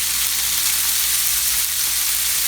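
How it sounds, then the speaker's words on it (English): Rice hits a hot skillet pan and sizzles with a bright, steady crackling hiss, close and even across the short moment, with no talking. "Now we're adding in our rice to the skillet pan."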